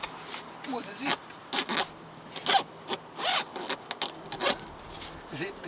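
A zipper on a seat cover for a 2015 four-door Jeep Wrangler is drawn in a series of short, rasping pulls with brief pauses between them, close to the microphone.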